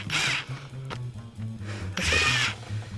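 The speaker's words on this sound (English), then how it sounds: "carefully and lightly drill the rubber out in a bunch of spots" A power drill boring out rubber on a 1972 Ford Highboy whirs in two bursts with a pause between, its motor pitch dipping under load, close and loud.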